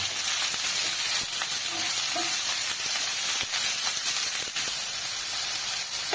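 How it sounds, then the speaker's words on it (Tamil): Chopped onions frying in oil for rice flour sambar, a loud, steady hiss of sizzling with faint scraping from stirring, close up and without speech. "ரெண்டு பெரிய வெங்காயத்தை சேர்த்துருக்கோங்க அதையும் நல்லா கலந்துக்கிறோங்க"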